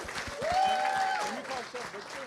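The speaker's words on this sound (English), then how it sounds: "One more round of applause for everybody." Audience applause fills a room at the Old Skool Cafe Harlem Renaissance Gala 2022, a steady dense patter of clapping that swells and then tapers slightly, with voices mixed into the crowd noise.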